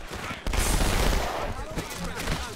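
SMG fire in Halo 2 Anniversary, level Delta Halo on Xbox One: dense, rapid automatic bursts with a short break near the middle, loud and continuous over game audio.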